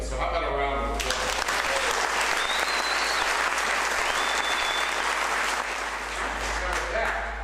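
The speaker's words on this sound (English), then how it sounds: "So how about a round of applause?" Audience applause at a veterans court ceremony, a full, continuous round of clapping that follows a brief voice at the start and carries steadily for several seconds.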